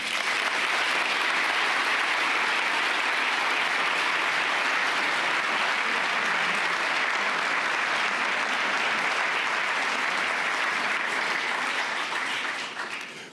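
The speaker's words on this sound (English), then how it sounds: "I would hope that you will all give President Macron a warm applause of welcome" A large conference hall audience at the Munich Security Conference applauds President Macron's arrival. The clapping is sustained, dense and even, holding at full strength for over twelve seconds before starting to fade.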